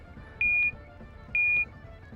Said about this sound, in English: the oven beeps as loud as it was programmed to, telling me that pizza's done